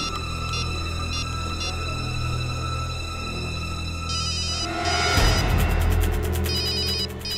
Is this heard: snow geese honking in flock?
no